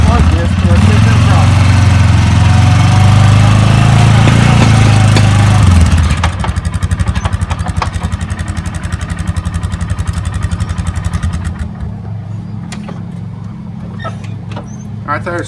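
A loud ATV engine drives onto an already loaded single axle trailer, steady and close for about six seconds, then drops to a lighter rumble with a rapid, irregular pulsing as it creeps forward.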